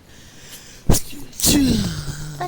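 A person sneezes once sharply partway through a Dragon Quest Builders 2 play session, followed by a brief vocal sound and low voiced murmuring.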